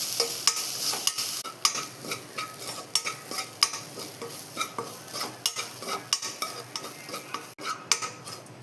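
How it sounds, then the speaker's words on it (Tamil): Grated coconut is stirred and roasted over low heat in a pan until lightly golden, ready for a bitter gourd curry. A spoon scrapes rhythmically and repeatedly against the pan over a soft, constant sizzle, with no one talking. "லைட்டாக கோல்டன் கலர் வர்ற மாதிரி வறுத்தா போதும்."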